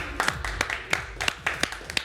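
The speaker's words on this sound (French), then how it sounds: "On peut les applaudir bien fort s'il vous plaît" A handful of people clap for a winning team after a Minecraft game, sparse uneven claps at close range, loud and distinct over a quiet background.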